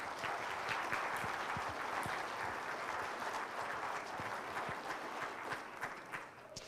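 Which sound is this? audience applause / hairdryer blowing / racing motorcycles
audience applause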